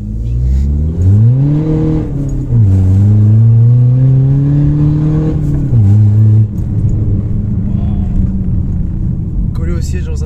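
A stage 2 tuned BMW 320d diesel accelerates hard, its engine droning and climbing in pitch through repeated gear pulls, loud and close from inside the car, with people talking over it.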